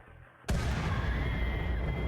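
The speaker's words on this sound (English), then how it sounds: "here, the explosion that you wanted to see" Explosion in the colony-management video game RimWorld, during a raid on a kill box: a sudden loud blast bursts in after a near-silent half second and holds as a dense, roaring rumble to the end.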